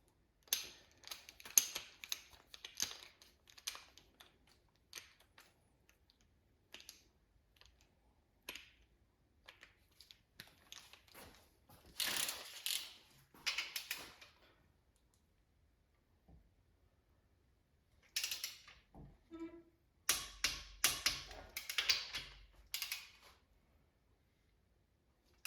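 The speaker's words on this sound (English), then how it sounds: "I'm going to go torque it up the main to 60 foot-pounds" A torque wrench tightening crankshaft main cap bolts to 60 foot-pounds on an LSA V8 engine, giving quiet bursts of ratcheting clicks separated by near-silent pauses, close up and with no talking.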